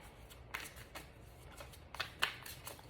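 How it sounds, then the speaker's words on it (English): Tarot cards being shuffled by hand, soft faint riffling and sliding sweeps with a few sharper flicks near the end, quiet and close with no voice. "Shuffling for Virgo."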